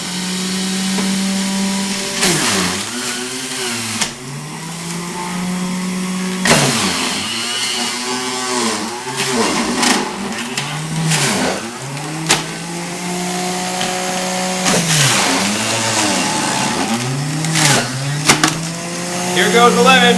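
An Omega Big Mouth juicer with a 3-inch feed chute grinds whole apples, its motor humming loudly and dipping into strained, groaning pulses each time fruit is pushed through, with a voice talking over it.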